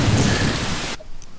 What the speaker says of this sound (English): Very sudden arrival of a thunderstorm there.